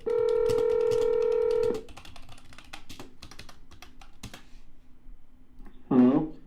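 A phone line gives a sustained electronic tone before a run of quick keypad clicks and beeps as a number is dialed, ending with a short voice on the line.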